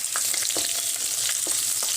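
Raw onions and green chillies fry in oil with cumin seeds, giving a dense, close hiss broken by soft scraping stir clicks throughout.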